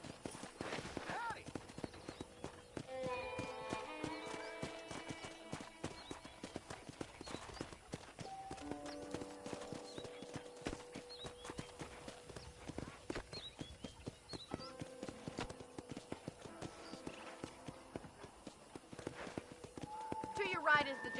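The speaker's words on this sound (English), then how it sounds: "let's see if you can still ride a horse." Steady, rhythmic hoof clops of a horse at a walk in the video game Red Dead Redemption continue throughout, with people talking over them and soft music in the background.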